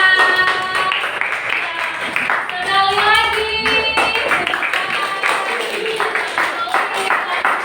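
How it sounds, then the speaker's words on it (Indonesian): A classroom of students claps together, steady applause lasting several seconds, with a teacher's voice speaking over the clapping. "beri tepuk tangan"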